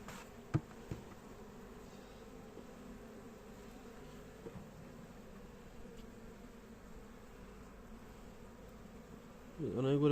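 Honey bees buzz around their hive in January in a steady, soft drone close by, a swarm of wings humming continuously with a few faint knocks and a brief voice near the end.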